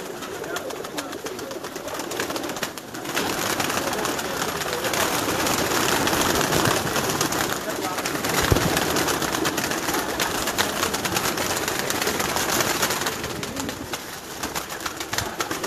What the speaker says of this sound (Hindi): अब ये कबूतर तैयारी में है